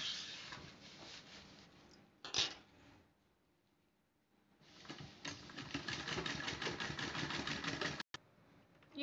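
Sewing machine stitching around the outline of a small cloth hand purse, a steady rapid motor whir that stops partway, then resumes and runs continuously near the mic.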